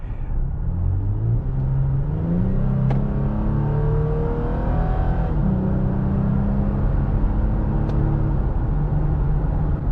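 A new Toyota Tacoma pickup with about 1,000 miles on it accelerates on open road, heard from the cab as a steady engine drone whose pitch climbs, drops at gear shifts and climbs again, loud and continuous with no speech.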